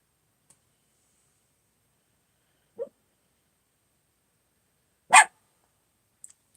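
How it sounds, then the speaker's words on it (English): A single sharp dog bark rings out indoors after a quiet stretch, with a faint yip earlier and small clicks around it, and no one talking. "I don't know what you're barking at."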